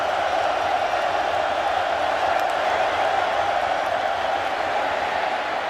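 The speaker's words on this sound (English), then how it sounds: "Here comes the crowd noise" A steady, dense roar from a stadium crowd at a Kentucky vs Missouri college football game fills the air, holding an even level throughout with no clear peaks.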